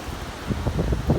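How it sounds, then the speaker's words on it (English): Gusty wind buffets a microphone outdoors in a garden during a fall harvest, producing low, uneven rumbling bursts with a faint rustle of leaves behind. "Wow, it's windy."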